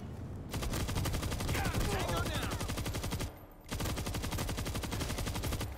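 A heavy machine gun fires in long sustained bursts in the zombie shooter World War Z, a rapid, evenly spaced hammering that drops out for a brief pause and then resumes. Faint voices can be heard beneath the shooting.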